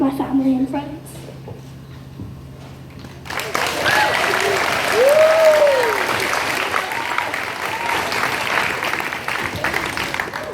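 Applause from a gathered audience at a bar mitzvah celebration swells in after a brief spoken moment, sustained clapping continuing steadily throughout.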